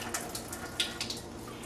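Water trickling off the edge of soaked watercolor paper, a soft continuous splashing wash with a few small spattering drips, fairly close and moderately quiet, heard with no voices.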